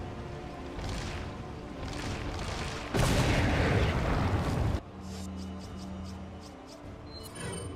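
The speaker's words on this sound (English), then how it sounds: "just gonna chuck a grenade at a big angry spider" Grenade blast against a big spider in the 2005 video game Resident Evil 4, a loud sustained roaring explosion lasting about two seconds, then a lower rumble and quieter game sounds.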